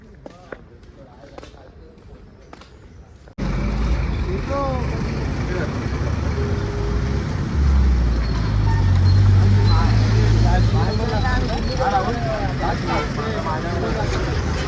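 Road traffic on a pilgrimage walking route, with vehicles passing close by under a steady, loud engine and road roar that sets in abruptly after a quieter stretch. Voices of people walking along can be heard through it.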